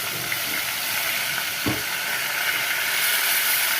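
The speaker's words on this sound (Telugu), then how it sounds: "తర్వాత 1 స్పూన్ పసుపు వేసి ముక్కలను వేసింది" Fish pieces with turmeric fry in hot oil in a pan, giving a loud, continuous hiss and sizzle with a single brief knock partway through.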